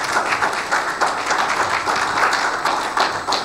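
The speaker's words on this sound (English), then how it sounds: "Please, let me clap for this brother." A church congregation claps for a brother during a sermon, steady, fairly loud applause from many hands filling the space, with little talk over it.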